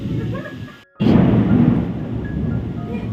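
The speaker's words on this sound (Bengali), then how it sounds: "বৃষ্টি পড়ছে ঝড় এসছে" A rainstorm outside a home with windows half open: a brief hush, then a sudden loud, broad rush of wind and rain that carries on steadily and strongly.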